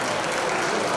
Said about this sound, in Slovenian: Hvala za nas dan aplavz.